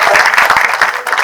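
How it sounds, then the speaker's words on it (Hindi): Loud, close applause fills an indoor hall as the audience at a Hindi Pakhwada event in Bhopal claps vigorously for the chief guest, a brief dense burst of hand claps. "जोरदार तालियां मेरे लिए।"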